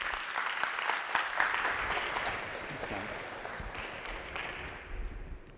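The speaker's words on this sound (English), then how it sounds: "please give him a round of applause." Audience applause at a minimalism symposium in Singapore, steady clapping from a seated crowd that gradually tapers off, fairly close and full.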